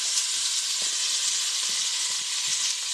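Bacon sizzles steadily in a pan with a bright, constant hiss, and faint soft pops and crackles sound underneath throughout.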